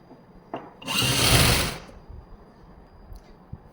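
A sewing machine stitches a salwar belt in one loud, steady burst of about a second, with faint clicks and handling before and after.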